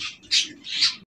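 A pair of Jharna Shedin fancy pigeons at a farm give short bright calls, two or three close squawking bursts within about a second, with no talk over them.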